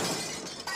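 A brief crash and shatter as SpongeBob smashes through the fourth wall in a cartoon scene, one sharp breaking burst lasting under a second.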